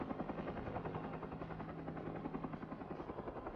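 Logging helicopter hovering while lifting timber on a long line over forest, a steady rhythmic rotor thump with a droning engine hum, moderately distant and continuous.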